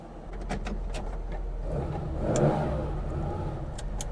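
A Porsche 911 ST's engine turns over and settles into a mid-pitched idle with a swelling rev and clicks, close and moderately loud.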